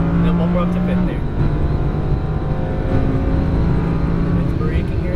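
An Audi R8 V10 Plus engine pulls hard at full throttle on a race track at Exotics Racing, a steady loud roar with rising and shifting tones under a talking voice.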